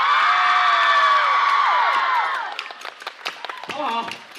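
A studio audience on a Chinese television variety show screams and cheers loudly and continuously, with high-pitched shrieks, then breaks into scattered whoops and claps as the noise fades.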